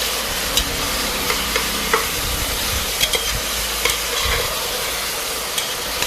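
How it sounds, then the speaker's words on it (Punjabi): Onions fry in hot oil in a pan for a macaroni dish, giving a loud, continuous sizzle up close, broken by scattered scrapes and taps of a spoon stirring, with no talking. "ਆਪਾਂ ਪਿਆਜ਼ ਨੂੰ ਥੋੜਾ ਜਿਹਾ ਸੇਕ ਲਵਾਵਾਂਗੇ"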